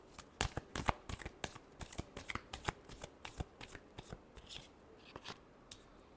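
Tarot cards being shuffled by hand in a rapid run of crisp, close riffling flicks that slow and thin out toward the end, with no talk.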